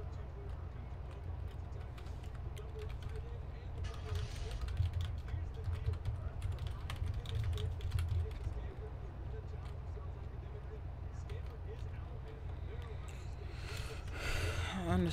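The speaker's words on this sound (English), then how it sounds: "Typing freaking sucks, bro. I think it's this keyboard." Computer keyboard keys clatter in quick irregular bursts throughout, close and fairly quiet, with someone talking over the typing.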